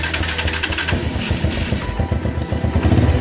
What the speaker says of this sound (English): Now we'll start the bike.